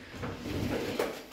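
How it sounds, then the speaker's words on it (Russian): A door in a new-build apartment in Mahmutlar, Alanya swings open with a brief, soft scrape and light knock, close by in a quiet room. "смотрите, как открываются двери"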